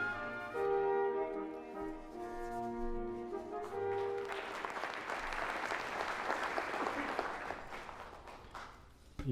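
An audience at a formal forum applauds to welcome the Prime Minister to the podium, starting after a fading musical tone and continuing as steady, moderately loud clapping for several seconds.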